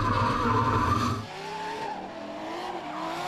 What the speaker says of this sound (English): Listen to these two cars working around that last bend